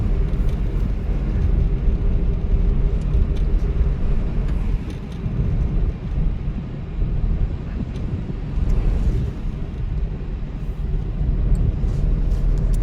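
A car engine holds steady revs while climbing a flyover ramp, giving a continuous low drone with wind and road rumble that swells and dips slightly and never stops.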